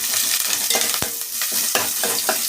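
Chopped onions and curry leaves fry in hot oil with a steady, close sizzle, broken by the scrape and clatter of stirring and one sharp clank midway.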